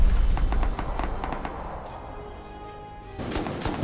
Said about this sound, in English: the rockets are just being pummeled into the side of this base